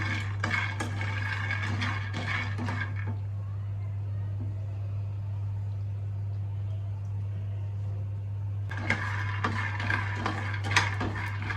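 Black kavuni rice and its skins dry-fry in a pan while a laddu is being made. Bursts of scraping and stirring sound at the start and near the end, with a steady low hum in between.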